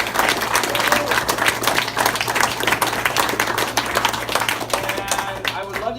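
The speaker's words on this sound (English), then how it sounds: "I want everybody to give themselves a huge round of applause" Crowd applause at a political meet and greet for Congressman Mike Levin, a loud sustained round of clapping from a gathered audience with a low hum beneath, lasting the whole stretch without a clear break.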